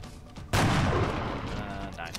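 A single loud headshot gunshot in the turn-based strategy game XCOM: Enemy Within, a sharp blast with a long booming decay that fades over about a second and a half, on its own.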